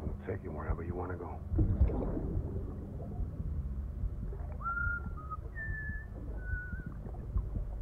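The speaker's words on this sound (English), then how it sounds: "why the baby likes it when Sam whistles?" Sam Porter Bridges whistles a short melodic tune in the video game Death Stranding, a few clear sustained notes heard after a stretch of muffled game sounds and low rumble.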